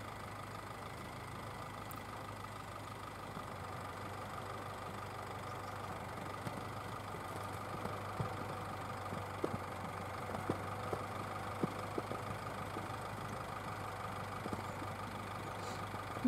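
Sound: GAZ Sobol 4x4 van engine driving on ice

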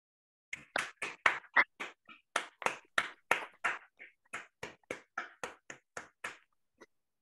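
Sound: online audience clapping after a lecture

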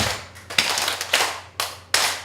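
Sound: group clapping hands in rhythm at singing class

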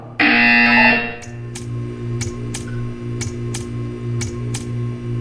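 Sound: buzzer in a video game

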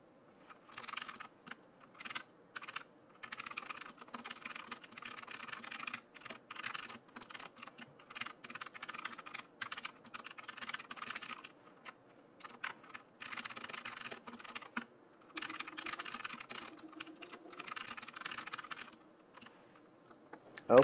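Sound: typing JavaScript code on a computer keyboard

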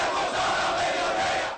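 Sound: crowd of thousands chanting at a protest in Alexandria

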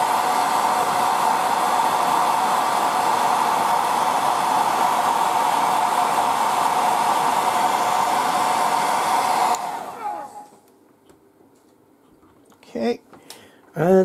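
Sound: hair dryer blowing

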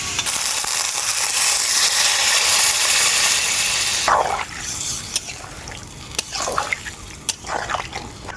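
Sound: water being poured into cooking vegetables

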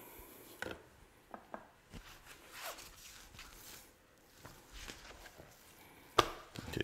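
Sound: knife trimming fat off a brisket

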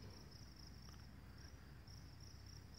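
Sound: crickets chirping in evening meadow

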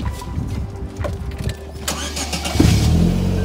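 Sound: car engine starting after cranking

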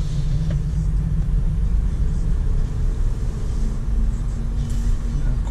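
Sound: car pulling into parking lot

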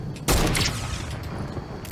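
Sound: gunfire in the video game Fortnite

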